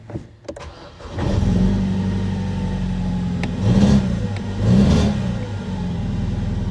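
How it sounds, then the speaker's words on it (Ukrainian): A BMW 320i E90 engine cranks and catches, then settles into a steady idle with two brief rev swells, loud and close with no talk, after an ignition coil replacement with misfires. "Та запускаємо двигун."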